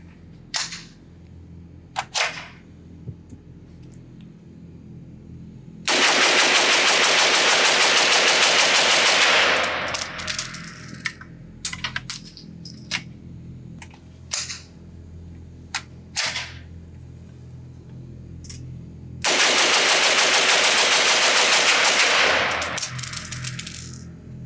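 A Tommy Built Tactical TMP 9 SBR, a semi-automatic HK UMP 9 clone in 9mm, fires at a range: scattered single shots, then two long, loud strings of very rapid fire from magazine dumps, each lasting several seconds.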